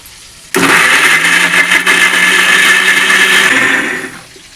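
A countertop blender grinds six or seven green chillies and one dried chilli with a little water into a paste: a loud, steady whirring roar that starts abruptly and runs for several seconds before winding down at the end.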